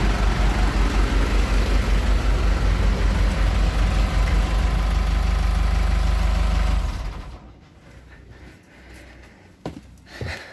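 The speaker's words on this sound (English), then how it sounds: "let me just go and switch these engines off" A low, steady drone from the engines of a Bayliner 3450 Avanti boat runs at an even idle for several seconds, then cuts out, leaving quiet with a few faint knocks.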